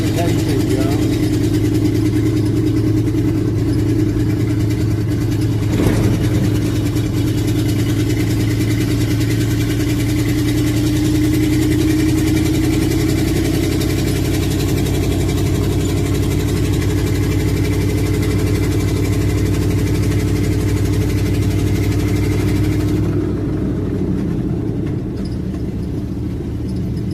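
A vehicle engine idles with a steady, loud, low hum that holds for most of the stretch and eases near the end, while a person talks over it; the vehicle sometimes hesitates and shifts gears badly.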